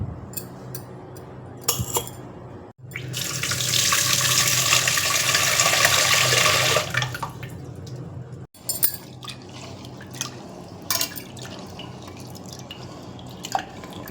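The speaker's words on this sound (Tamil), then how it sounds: "இந்த கிளாஸ் அளவுக்கு பருப்பு எடுத்து இதில் ஊற்றிட்டு 3 டைம்ஸ் வாஷ் பண்ணிடலாம்" Lentils are washed in water in a kitchen: a few seconds of loud running water from a tap pour into a vessel, followed by sloshing, dripping and light clinks of the grains and pot.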